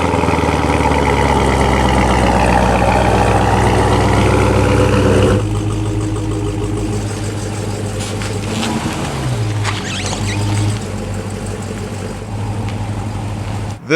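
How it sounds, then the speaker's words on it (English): Close, loud engines of a 2021 Dodge Charger Hellcat Redeye and a 2015 Corvette C7 Z06 after cold start: a heavy steady idle that drops to a lower rumble midway, with a brief rev dip near the end. "Let's start this video off with a cold start from a 2021 Dodge Charger Hellcat Redeye and a 2015"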